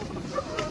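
A newly hatched chicken chick gives a couple of quick, soft peeps close by, over a faint background murmur.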